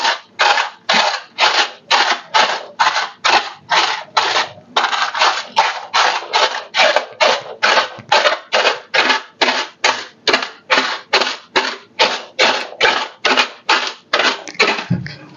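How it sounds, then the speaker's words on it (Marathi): Roasted edible gum (dink) is mashed with a masher, a regular series of close, rhythmic crunching and grinding strokes, about two per second, fairly loud and steady throughout with one brief break. "तेलाच्या साह्याने नाहीतर तांब्याच्या साह्याने असं किंवा मॅशरनी असं मॅश करा"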